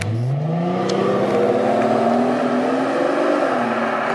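The V12 engine of a Rolls-Royce Wraith revs smoothly, its close, steady hum climbing gradually in pitch over a few seconds with no talking.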